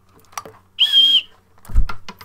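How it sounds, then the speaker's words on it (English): A single short, shrill referee whistle blast played as a sound effect, sharp and close, with faint clicks and a low thump around it. "Whistle."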